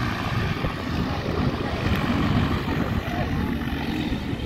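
A gyrocopter registered OM-727 spins up its rotor while a pusher propeller drones steadily at an air show, making a continuous broadband whir with a low rumble. The sound holds steady throughout and is fairly close.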